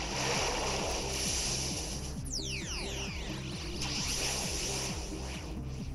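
Water Z-move attack in a 2017 VGC Pokémon battle, a loud sustained rush of surf-like water and splashing, with sweeping whooshes cutting through over a steady repeating game music beat.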